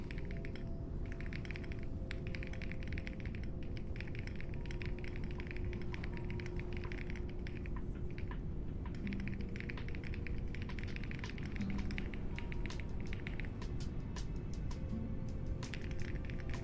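Rapid clicking keystrokes from an Evangelion-themed mechanical keyboard, steady and close over 16 seconds, with a constant background hum and no talk.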